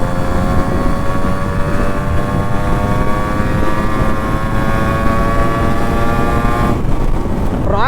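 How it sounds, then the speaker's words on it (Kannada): A fully restored Yamaha RX100 two-stroke motorcycle engine revs loud and close as the throttle is opened, a steady high-pitched whine that rises slightly in pitch. "ಒನ್ ಟೈಮ್ ಥ್ರಾಟಲ್ ಓಪನ್ ಮಾಡಿದ್ರೆ ಇದರಲ್ಲಿರೋ ಪವರ್ ಗೊತ್ತಾಗುತ್ತೆ"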